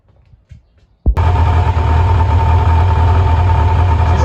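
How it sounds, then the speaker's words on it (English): After a few faint knocks, a Kawasaki Concours motorcycle engine starts abruptly and settles into a steady, loud idle with a constant low rumble. "She's idling okay."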